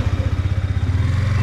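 A Yamaha R15M motorcycle, freshly serviced, runs with a close, loud, rhythmic engine thrum whose quick pulses settle into a steady idle over a brief moment.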